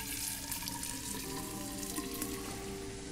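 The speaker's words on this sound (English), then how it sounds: "If I turn the faucet on, maybe the..." A sink faucet runs in the video game Fran Bow, a steady, full rush of water pouring continuously throughout with no voices.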